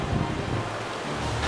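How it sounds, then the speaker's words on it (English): Gusting wind during a dust storm in Canberra, hot dry air thrashing gum trees, roars as a steady, loud broadband rush with no voices over it. "I'm pretty sure it's just a dust storm"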